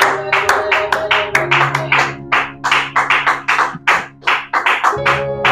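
Church congregation clapping together in steady rhythmic bursts at a worship service, loud and close, with overlapping hand claps and some voices mixed in underneath.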